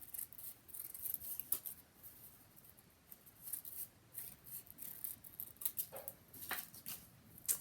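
Scissors snip through a folded fabric scrap to rough out a general shape, a string of quiet, close crisp cuts in an irregular rhythm with no talking.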